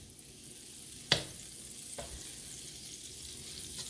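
Margarine melting in a hot pan on a stove before sautéing gai lan, giving a steady quiet sizzle with a sharp crackling burst near the middle and a fainter pop later.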